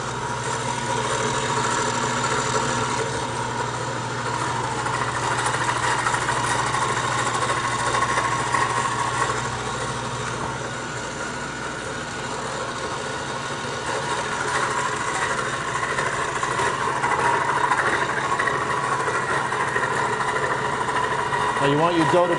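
Motorized pasta machine rolling out dough for shrimp-filled casconcelli, a steady close mechanical hum running without break, with a voice talking over it.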